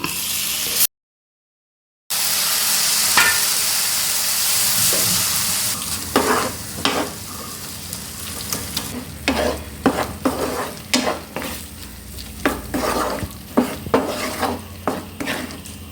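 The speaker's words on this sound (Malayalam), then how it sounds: "ഈ സമയത്ത് നമുക്ക് ഈ പുളിവെള്ളം ചേർക്കാം" Tamarind water poured into tomatoes frying in a pan for tomato sambar, a loud hissing sizzle that fades into intermittent stirring scrapes and clinks of a spoon against the pan.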